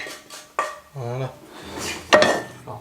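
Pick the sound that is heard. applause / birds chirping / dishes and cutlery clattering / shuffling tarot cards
dishes and cutlery clattering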